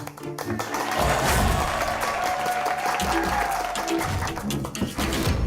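Group applause greets a boss entering an office meeting, dense and continuous clapping close by, with some low thumps and a faint tone underneath, holding steady throughout.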